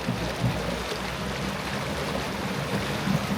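An electric outboard motor running on a boat: a steady low drone under a continuous rush of water, with no pauses and no voices.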